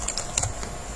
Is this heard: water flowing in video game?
no